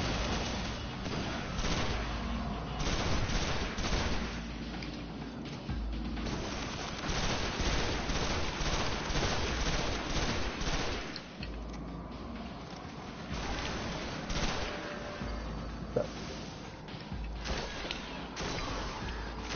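Repeated shotgun blasts in a video game, loud dense bursts of gunfire and booms layered over a busy game soundtrack with a few brief explosive peaks.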